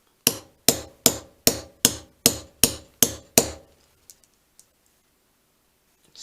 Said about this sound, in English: I think I need to do a little bit more hammering.